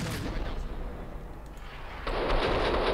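Shotgun fire in the video game Max Payne 2, booming blasts over a noisy game background, with a loud burst of gunfire near the end.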